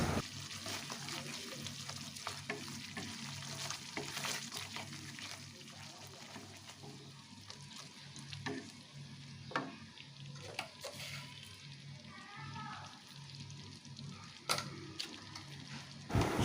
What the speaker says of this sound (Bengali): এবার ভালো করে আমি নাড়াচাড়া করে নিয়ে মশলাটাকে একসাথে সমস্ত মশলা কষাতে থাকবো